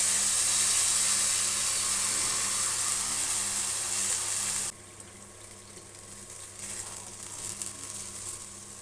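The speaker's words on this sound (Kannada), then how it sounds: "ಹುಣಸೆಹಣ್ಣಿನ ಜೊತೆಗೆ ಸ್ವಲ್ಪ ನೀರನ್ನು ಜಾಸ್ತಿ ಹಾಕೊತಾ ಇದ್ದೀನಿ" Water poured into a pan holding soaked tamarind and green banana pieces, a loud continuous splashing rush for about five seconds, then dropping to a softer simmering hiss with small bubbling.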